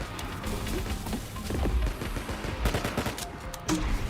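Gunfire in the indie shooter IVOR, a string of sharp close shots and impacts in uneven bursts, loud and without speech.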